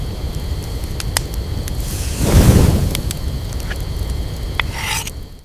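Strong thunderstorm wind in a wild prehistoric canyon with a fire nearby, a steady rough rush that swells into a louder whoosh midway and then eases off, with faint crackles and no talking.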